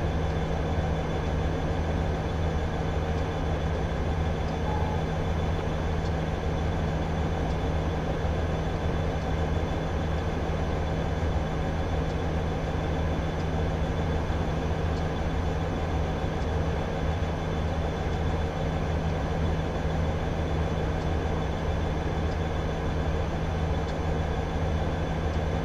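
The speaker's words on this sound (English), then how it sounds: "I'm just waiting for the longest freight train in the history of freight trains to go past us." A long freight train passes on the Horseshoe Curve in Train Simulator 2015, with a steady, loud rumble and hum of rolling wagons that holds unbroken throughout.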